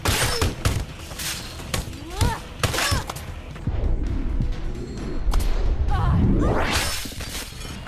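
Several sharp nail gun shots fire in a video game set in Blade and Sorcery Nomad, with impact crashes and whooshes between them, ending in a rising mechanical swell.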